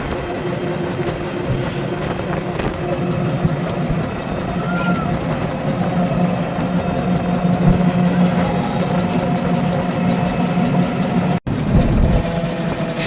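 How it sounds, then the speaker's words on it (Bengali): A motorcycle engine drones steadily and close by at a low idle-like rumble, continuous throughout with faint background noise. "পোলাই বাবার মোটরসাইকেল চালাই আসতেছে"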